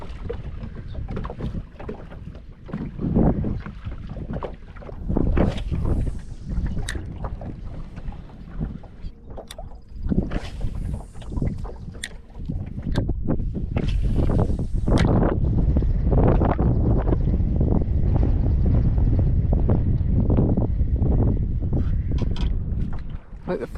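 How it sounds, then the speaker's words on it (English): Strong wind of around 15 mph blowing over the water of Chesapeake Bay during a rockfishing trip from a small boat, gusting and buffeting the microphone in loud, uneven rushes. "they did say like 5-mile-an-hour winds, and it's probably more like 15 out here right now"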